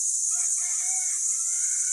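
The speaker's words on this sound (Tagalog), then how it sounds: "Yan, tunog na mga ibon sa kabundukan." A rooster crows faintly over a constant high hiss of insects or wind, a single drawn-out call in an otherwise quiet outdoor mountain scene in Angono, Rizal, Philippines.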